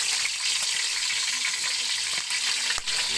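Steady, loud sizzling of tilapia frying in hot oil, a continuous crackling hiss with one sharp click near the end.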